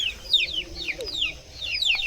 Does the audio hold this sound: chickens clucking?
yes